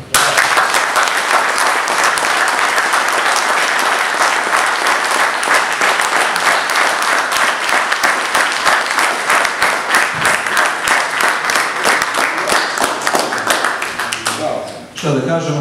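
Loud, sustained applause from an audience at a poetry book promotion evening at a cultural centre, dense clapping throughout that thins and fades near the end.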